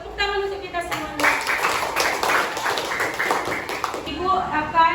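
A classroom of fifth-grade children claps together in a burst of quick, close, overlapping hand claps lasting a few seconds, with a voice speaking just before and a voice after.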